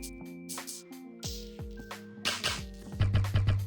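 Percussive, drum-like hits with pitched tones from the Beatsurfing VRAC+ plugin turning sound into drums, a choppy rhythmic pattern of synthetic beats that grows denser and louder toward the end.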